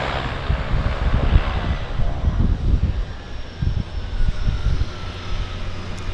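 A plane coming in to land at Vancouver's downtown harbour airport gives a broad, rumbling engine drone that swells and fades, heard from a distance over wind and water with no talking.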